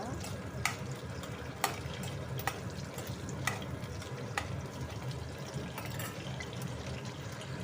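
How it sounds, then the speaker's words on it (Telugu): Dried red chillies fry in hot oil for a coconut pickle, giving a steady close sizzle and crackle throughout, broken by a few sharp clicks of a ladle against the pan, with no talking. "చూడండి, ఇప్పుడు మధ్య మధ్యలో ఇలా ఫ్రై చేసుకుంటూ ఉన్నారన్నమాట."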